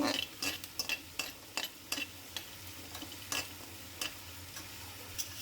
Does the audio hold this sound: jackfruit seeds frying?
yes